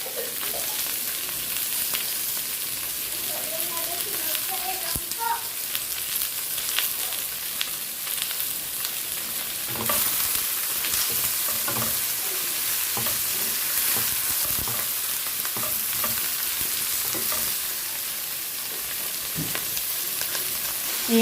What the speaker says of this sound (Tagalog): Iuna nating igisa ang ating gulay. Cabbage at carrot.